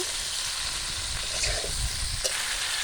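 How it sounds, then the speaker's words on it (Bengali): Vegetables frying in a pan with salt and turmeric powder, a steady close sizzle and hiss with faint stirring scrapes, no talking. "দিয়ে দেবো লবণ, হলুদ গুঁড়ো, একটু ভেজে নেব।"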